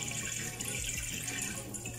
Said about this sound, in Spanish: ahí está prendida el agua ya.